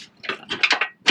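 A wrench works a 1/2 inch bolt on a bent Lippert stabilizer jack under a Forest River Salem FSX travel trailer, giving a quick run of sharp metallic ratchet clicks, close and brief.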